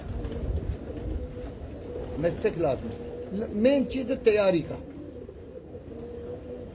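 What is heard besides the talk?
pigeons cooing on a Karachi rooftop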